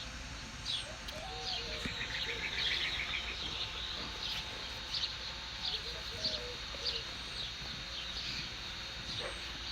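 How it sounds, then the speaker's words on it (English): Birds at sunset in Arizona, scattered faint chirps and tweets from several birds at a distance over a steady outdoor hiss, with occasional soft cooing. "the birds are becoming restless"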